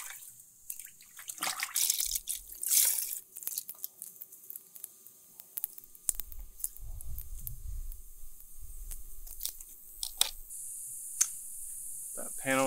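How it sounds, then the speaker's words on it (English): Water splashes and squishes as a car panel is washed with rinseless wash solution and a mitt is rinsed in a bucket with a grit guard, with soft drips and sloshing at close range and some quiet clicks. "And then washing it off in our bucket with our grit guard."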